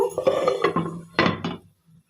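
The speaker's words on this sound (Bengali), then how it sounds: "এবার এটাতে ঢেকে দেব।" A lid is set onto a cooking pot of boiling raisins for homemade baby cereal: a quick run of metallic clinks and clanks, then a final louder clatter as it settles, close by.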